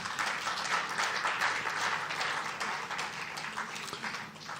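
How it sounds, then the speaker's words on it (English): Applause from a conference audience honoring panelists in a village tent session, a sustained wash of many hands clapping, fairly distant and soft, holding evenly throughout. "I ask you to please honor the panelists with a round of applause."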